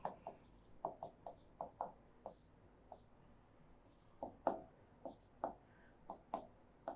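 A marker or pen writing notes on a board during a lecture, with quiet irregular scratchy strokes in short bursts, close and soft, under light background noise.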